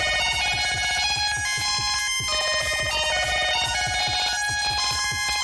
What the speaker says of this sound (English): the square wave LFO from the Mother 32